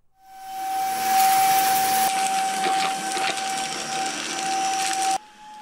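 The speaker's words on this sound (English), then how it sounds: "This is a review of the Greenote Cordless Vacuum Cleaner GSC50." Greenote GSC50 cordless vacuum cleaner sucking up dirt from a floor, a steady loud motor whine and airy hiss with brief rattling pickup, no talking.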